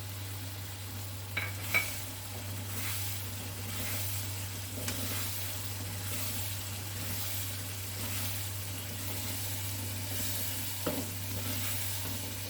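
Pistachios and almonds get stirred into banana halwa cooking in ghee, a soft, low sizzle with scattered scraping clinks of a spoon against the pan over a constant low hum.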